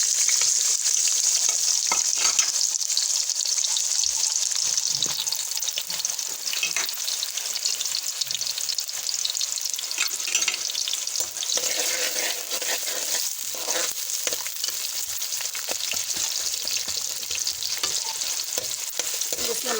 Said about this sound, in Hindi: हमारा तेल गर्म हो चुका है। इसमें अब हम प्याज ऐड करेंगे।